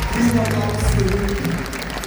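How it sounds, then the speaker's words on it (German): Audience applause at a concert in Leipzig, a dense, continuous roar of clapping with a low hum underneath and a voice talking over it. "Das ist euer Applaus!"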